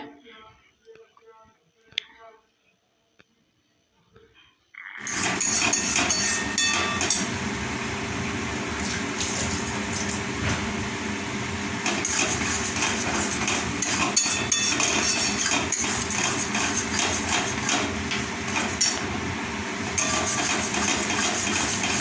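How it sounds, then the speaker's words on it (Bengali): Cabbage paste stirred in a pan, starting with a few faint clinks and near-silence, then a loud, steady sizzle with continuous scraping that carries on unbroken for the rest of the time. "দশ মিনিট মতন এইভাবে নাড়াচাড়া করলেই এটা রেডি হয়ে যাবে"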